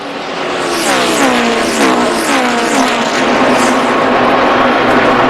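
NASCAR stock cars race at speed on the track at the 2007 Dodge Dealers 400, a loud, close engine roar with rising and falling pitch sweeps as cars pass, continuous throughout with no voices.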